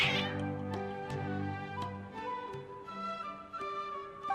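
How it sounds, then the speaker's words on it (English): Agitated cats meow repeatedly in the Genshin Impact video game, a string of high, insistent cries of varying pitch over soft background music, with no talking. "Your cats seem pretty worked up."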